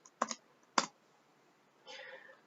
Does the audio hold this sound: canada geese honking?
no